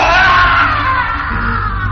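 An old man screams and bellows in a horror story setting, a loud, continuous raw cry heard close up with strained, wavering pitch and no break over two seconds.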